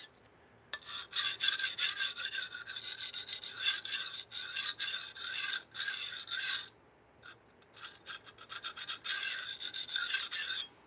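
Knife blade rasped in long steady strokes across a sharpening stone while the edge angle is set, a close, continuous gritty scraping with brief pauses between runs, no voices.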